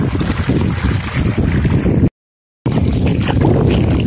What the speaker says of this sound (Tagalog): Ayan, matulin yung tubig.